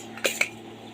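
Rice is served from a pot onto a plate at home, heard as two quick metallic scrape-and-clink sounds of a spoon against cookware, close and fairly clear, followed by quiet room tone.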